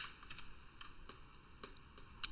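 A computer keyboard typing a command: soft, sparse key clicks at an irregular pace over a quiet background hum, with one slightly sharper click near the end.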